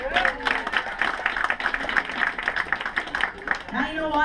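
Audience at a family magic show clapping in a round of applause, individual hand claps audible in a quick uneven rhythm, with voices and laughter mixed in and a speaker's voice rising near the end.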